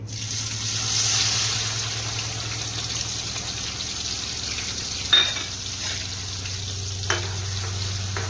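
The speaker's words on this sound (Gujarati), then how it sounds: "ત્યારબાદ આપણે ટમેટાથી વઘાર કરીશું।" Tomatoes frying in hot oil with cumin and asafoetida as a Gujarati tempering for a green onion dish, a steady sizzle with a low hum beneath, broken by a few stirring scrapes near the end.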